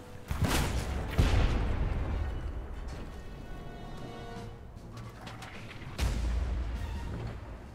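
Mortar and cannon fire in the pirate ship game Blazing Sails, several heavy booming blasts with sharp attacks, one after another and then a later one, each decaying into rumbling noise.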